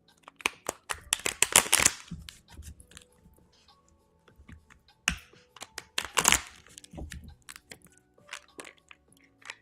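Crisp clicking and flicking bursts of tarot cards being shuffled, close up, in two or three quick flurries separated by quieter taps.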